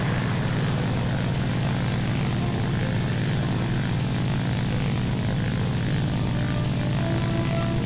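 Propeller aircraft engines in the War Thunder air-combat video game drone loudly and continuously, a thick buzzing roar with no pauses and no talking.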